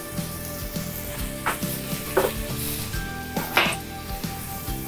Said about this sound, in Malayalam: പാൻ ചൂടായിട്ടുണ്ട്, നമുക്ക് ഓലിവ് ഓയിൽ ഒഴിക്കാം. മഷ്റൂം ഇട്ട് കൊടുക്കാം.